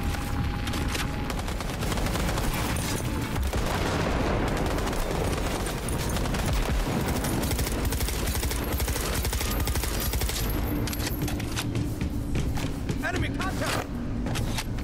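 Cyberpunk 2077 gunfire crackles in dense, continuous bursts with ricochets and loud game combat noise throughout, with a player talking over it.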